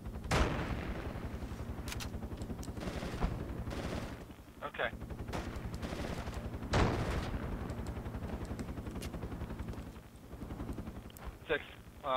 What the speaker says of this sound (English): there's three guys shooting at me